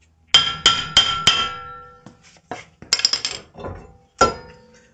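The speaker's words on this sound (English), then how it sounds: "give it a nice couple of hits with the hammer" Repeated hard metallic hammer strikes ring out against a Toyota Prius front brake rotor, a quick burst of four blows, then scattered clanks and a final loud hit as the rotor comes off.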